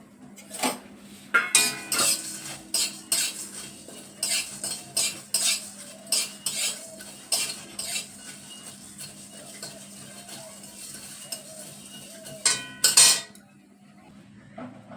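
A metal spoon stirs and scrapes spices frying in a large kadai, a chain of sharp clinks and clatters in uneven bursts, close and fairly loud with faint sizzling underneath.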